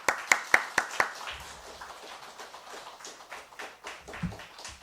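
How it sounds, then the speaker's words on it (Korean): A few people at a Sunday church worship service clapping to welcome the preacher, a handful of distinct sharp claps at first, then faint scattered clapping fading out. "우리 목사님 나오실 때 박수로 환영하도록 하겠습니다"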